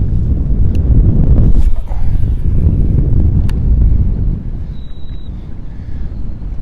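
Strong wind buffets the microphone beside noisy reeds at a bass-fishing spot in a loud, low, continuous rumble, easing slightly toward the end, with faint bird calls in the distance.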